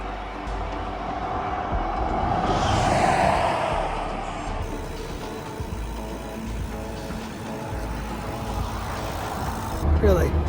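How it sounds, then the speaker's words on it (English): Road traffic roars past a cyclist riding the highway between Winnipeg and Richer, a continuous loud rumble that swells and fades as vehicles pass close by, with a sharper burst near the end. "traffic roaring by"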